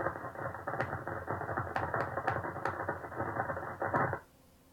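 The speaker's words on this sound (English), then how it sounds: "This is the sound of Saturn's lightning" Radio emissions from a huge lightning storm on Saturn, heard as a steady grinding, clicking crackle punctuated by several sharp bright pops, ending abruptly into near silence after about four seconds.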